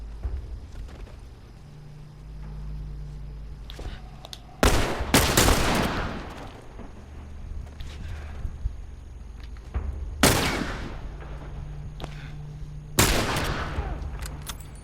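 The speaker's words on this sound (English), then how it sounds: "Who is taking shots at me?" Enemy gunfire aimed at the player in The Last of Us: three sharp, loud shots spaced several seconds apart over a low, quiet ambient background, each with a short ringing tail.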